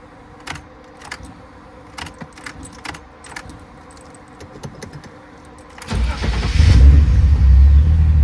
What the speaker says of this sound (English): if I key on, start the car, turn it off